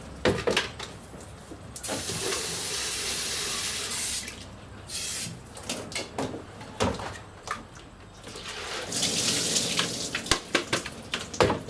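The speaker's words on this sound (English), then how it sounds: "give the bucket a rinse" Tap water runs loudly into a bucket being rinsed after pouring wheatgrass seed into a spaghetti strainer, with sustained splashing gushes broken by pauses, knocks and drips, close and without talk.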